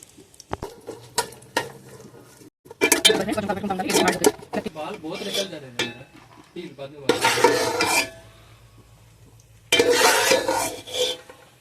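Dried coconut being roasted and stirred in a pan: bursts of scraping and clattering as a spoon works the pan, separated by quieter stretches, with a voice talking between the strokes.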